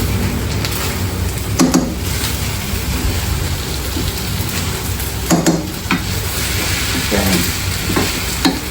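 Mixed vegetables sauté in butter with a dense, steady sizzle throughout, broken by several scraping stirs of a utensil against the pan.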